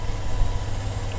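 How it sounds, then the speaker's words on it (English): An extractor fan runs on a boiler flue, giving a steady low droning hum that holds evenly throughout, fairly close, with no talk over it. "I've got the extractor going on the flue,"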